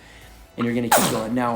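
A sneeze bursts out sharply during a home cardio workout class, a single brief blast caught between an instructor's spoken coaching.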